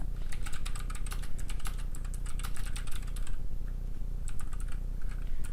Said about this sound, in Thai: ซึ่งเวลาเราจะพิมพ์บทเราจะพิมพ์ในนี้ แล้วเราก็จะพิมพ์ต่อว่า